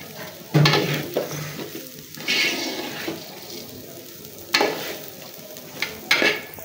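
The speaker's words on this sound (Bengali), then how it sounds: "তো চালগুলো প্রায় ভাজা হয়ে আসছে" Rice grains frying in a pot for village-style pulao, stirred often so they don't stick: a steady sizzle with repeated scraping, stirring strokes at close range, several sharper bursts as the spoon moves.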